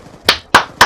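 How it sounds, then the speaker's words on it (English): Three sharp hand claps, evenly spaced and loud, with quiet gaps between them. "Big round of applause to the sentry gun for keeping B safe."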